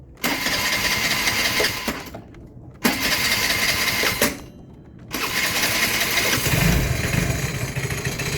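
The engine of a 2006 Vespa GT 200L scooter turns over in repeated cranking bursts, separated by short gaps, before catching. It then settles into a steady, loud idle close by, with no voices.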